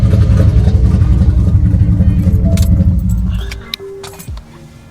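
A single-turbo truck engine idles loud and rumbling close by, then is switched off and winds down to near silence, with keys jangling briefly as it stops.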